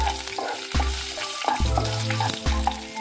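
Cinnamon, cloves, bay leaf and green chili sauté in hot oil for tomato rice, a close, loud sizzle punctuated by repeated rhythmic spatula scrapes and knocks against the pan.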